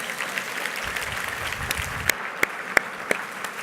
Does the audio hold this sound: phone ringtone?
no